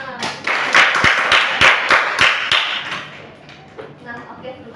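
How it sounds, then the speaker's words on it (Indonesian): A small group of people claps in a roughly steady rhythm of about eight or nine strong beats, then fades, with a voice speaking briefly near the end. "tepuk tangan dulu teman-teman"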